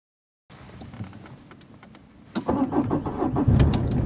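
A car engine cranks and catches after a brief silence, with clicks and rustling inside the cabin before the motor settles into a close, steady idle.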